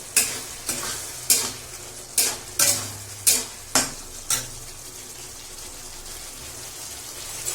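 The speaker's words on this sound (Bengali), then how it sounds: "আলুগুলো দিয়ে বেশ কিছুক্ষণ আবারও নড়িয়ে নেব।" Potatoes being stirred in a frying pan for a vegetarian paneer curry: a series of sharp scraping spoon strokes against the pan, about eight in quick succession, over a steady low sizzle, with no talking.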